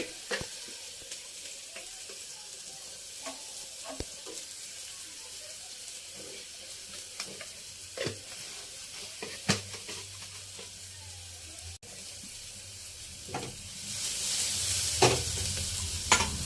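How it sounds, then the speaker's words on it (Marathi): Onion with salt frying in a pan, a soft continuous sizzle with scattered scraping and tapping from stirring, growing louder and more hissing toward the end, no talking. "हलवून घ्यायचं. थोडं मीठ टाकायचं. मीठ टाकल्यामुळं पटकन कांदा शिजतो."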